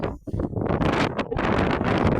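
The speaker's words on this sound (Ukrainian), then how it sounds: "Вітер." Heavy wind buffets an outdoor microphone in loud, rumbling gusts that surge and roar almost continuously, with one brief lull near the start.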